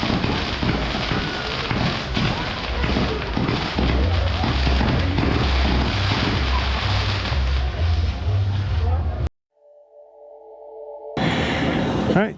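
Fireworks during the El Grito celebration in Cuernavaca: a dense, continuous roar of crackling bursts and rumbling booms for about nine seconds, then a sudden drop to quiet before the noisy crackle returns.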